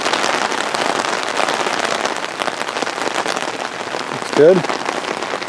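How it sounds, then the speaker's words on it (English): Heavy rain drums steadily on an umbrella outdoors beside a wall lit by a green Christmas laser, a dense loud patter throughout, with someone briefly speaking near the end. "Really raining hard."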